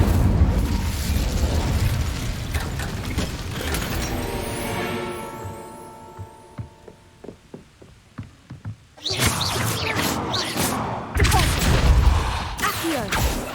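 The Incendio fire spell cast in Hogwarts Legacy, heard as a loud roaring whoosh of flame and booming bursts, easing into a fading, ringing tail with scattered crackles and pops, then another loud fiery blast.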